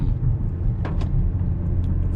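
A 2018 Mazda 3 on a test drive after a rear brake pad replacement, its steady low engine and road rumble droning evenly throughout, with a couple of brief higher swishes partway through.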